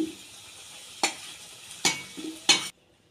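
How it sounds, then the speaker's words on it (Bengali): Whole dried chillies and bay leaf, with cinnamon, cloves and cardamom, hit hot oil left from frying potatoes, giving three sharp, close sizzling bursts over a low crackle before cutting to silence. "গোটা শুকনো লঙ্কা আর তেজপাতা ফোড়ন দিয়ে দিচ্ছি, আর দিচ্ছি দারুচিনি, লবঙ্গ আর এলাচ।"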